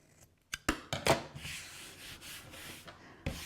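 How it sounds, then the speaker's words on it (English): Scissors or a knife trim thread ends and corners off a handmade leather wallet, producing a few close, sharp snips and clicks followed by soft rubbing and scraping at low level. "Trim your threads, being good. Trim those corners."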